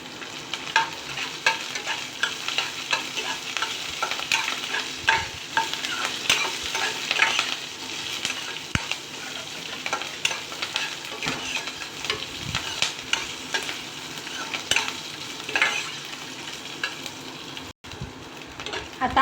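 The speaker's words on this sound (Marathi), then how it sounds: "ह्या ज्या लसणाच्या पाकळ्या आहेत त्या आपण काय करणार आहे, याच्यामध्ये तेलात टाकणार आहे" Garlic cloves and five to seven chili pieces frying in hot oil for a chutney, a continuous close sizzle with frequent stirring taps and scrapes against the pan throughout.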